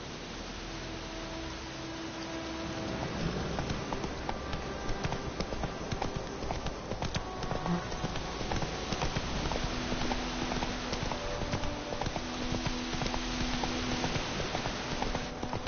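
Horse hooves clop in a quick, even rhythm as a mount gallops in The Witcher 3: Wild Hunt on PS4, starting faint and growing steadier and louder over soft ambient game sound.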